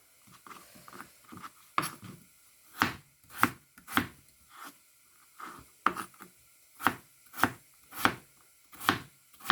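Knife chopping peeled potatoes into small cubes on a board: a steady run of sharp, close knocks, about a dozen, spaced roughly half a second apart with quieter taps in between.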